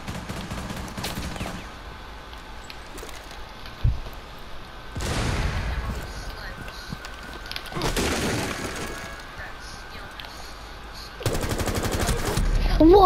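Video game gunfire cuts in as several separate loud bursts of rapid shots with sharp cracks, and a louder stretch comes near the end, between quieter gaps.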